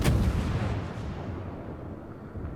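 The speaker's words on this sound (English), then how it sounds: "The guns on this ship are decent." Naval gunfire from a US Tier 10 premium destroyer, the USS Somers, in the World of Warships video game: a loud booming salvo at the start, then a long rumbling, crackling decay.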